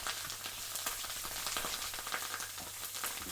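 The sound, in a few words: halloumi frying in pan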